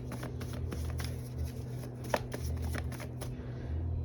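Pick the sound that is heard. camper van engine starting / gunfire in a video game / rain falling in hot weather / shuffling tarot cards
shuffling tarot cards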